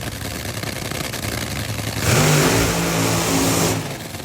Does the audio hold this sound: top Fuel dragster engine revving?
yes